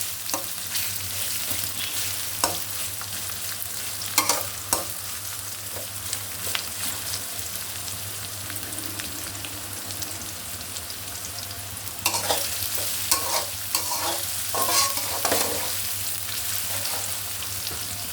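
Beef fries in a pan with a continuous loud sizzle over a low steady hum, broken by scraping stirring strokes that grow busier in the later part.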